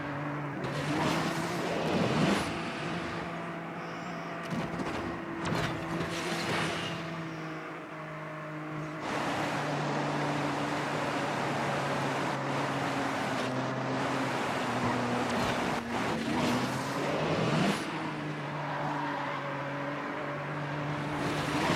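Racing cars in the Asphalt 9 video game: engines roar and rev steadily with shifting pitch, plus whooshing rushes and passing sounds, loud and continuous throughout.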